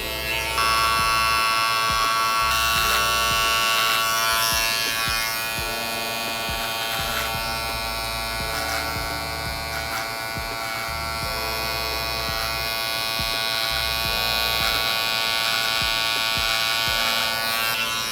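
Electric hair clippers with the lever closed to the zero setting buzz continuously and close while cutting a low fade, a steady high hum with slight changes in load as the blades move through hair.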